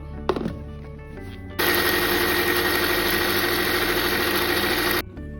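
A mixer grinder grinding roasted spices starts up and whirs loudly and steadily for a few seconds before cutting off, with a few clunks of the jar before it starts.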